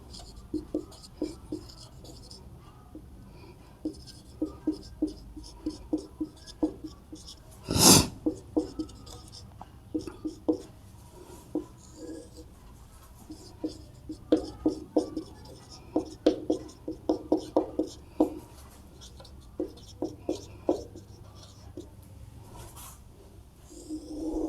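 Chalk or marker writing a maths formula on a board, irregular bursts of short scratchy taps and strokes, close and moderately loud, with a sharp louder knock partway through.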